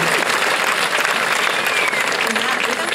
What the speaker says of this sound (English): Applause for this place